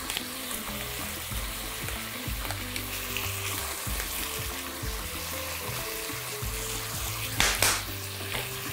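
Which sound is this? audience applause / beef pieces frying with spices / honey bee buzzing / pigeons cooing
beef pieces frying with spices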